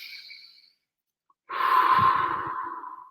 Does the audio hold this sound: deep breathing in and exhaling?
yes